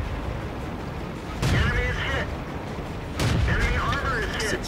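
A tank gun fires twice in a video game, each shot a loud boom with a ringing, whining tail over a steady background rumble.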